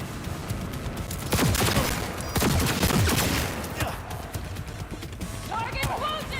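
Rapid video game gunfire, clustered loud bursts and volleys of shots with a brief lull between them, close and dense, mixed with shouted voices and other game sound.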